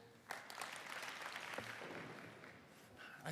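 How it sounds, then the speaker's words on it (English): Convocation audience at a university spring graduation ceremony applauding together in a hall, a sustained wash of clapping that swells and holds at moderate level, fairly distant and reverberant. "I trust you remember the 2 clap"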